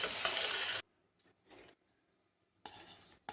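Onions, green chillies and curry leaves fry in a pan for curry, a loud sizzle that cuts off abruptly, then faint clinks before the sizzling returns.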